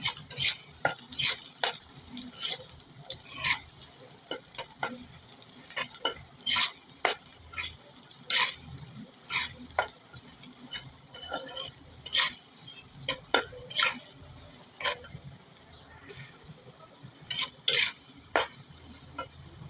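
Cumin seeds crackle and sizzle in hot oil in a pan while pumpkin is being cooked, a steady frying hiss broken by sharp pops and stirring scrapes, with no talking.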